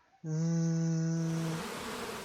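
A voice imitates a buzzing bee to teach the Z sound, holding a strong, steady voiced buzz for over a second that then fades into breathy hiss. It is close and loud and stands alone.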